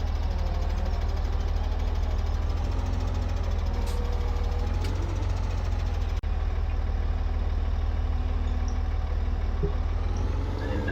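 Tractor engine idling in the Farming Simulator 17 video game, a steady low mechanical drone holding evenly throughout, with a single brief click partway through.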